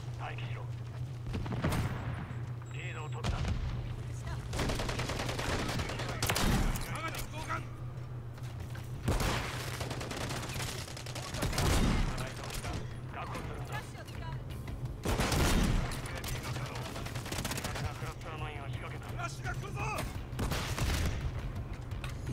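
Gunfire in the video game Call of Duty Modern Warfare 3 crackles in repeated bursts over a constant low hum, with a player talking throughout.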